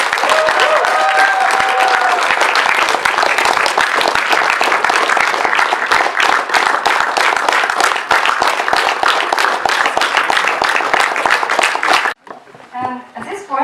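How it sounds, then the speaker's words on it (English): Loud, sustained audience applause for the organizing team at a Toastmasters humorous speech contest in Kazakhstan fills about twelve seconds with dense clapping and some crowd noise, then cuts off abruptly before a voice begins speaking. "Let's give a big applause."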